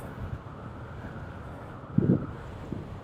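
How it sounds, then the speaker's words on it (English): Steady wind noise buffets the microphone while cycling uphill, a constant low rumble with a brief louder gust midway. "Oh, and then you add that wind to it too. And like doubles the resistance."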